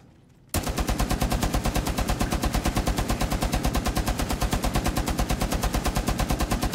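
Sustained automatic gunfire in Rainbow Six Siege, a loud, steady stream of evenly spaced rapid shots that begins abruptly after a brief quiet moment and continues without pause to the end.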